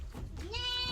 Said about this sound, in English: So these are 50 goats loaded in this truck here.